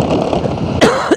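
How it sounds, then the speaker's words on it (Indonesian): A person riding a motorcycle at night in Balikpapan coughs twice, short sharp bursts close to the mic, over steady road and engine noise. "Sorry bosku batuk."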